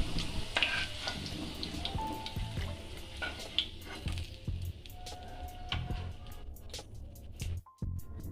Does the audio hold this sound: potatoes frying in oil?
yes